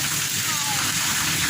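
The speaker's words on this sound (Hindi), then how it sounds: "कितनी तेज़ बारिश हो रही है, बहुत तेज़" Steady, dense hiss of heavy rain pouring down, constant and loud throughout with no pauses.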